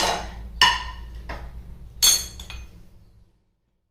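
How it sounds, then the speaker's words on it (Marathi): A metal lid comes off a pot of gulab jamun with a few sharp clinks and clatters, then fades into silence. "याला आता वीस मिनिट होऊन गेले आपण झाकण काढूया"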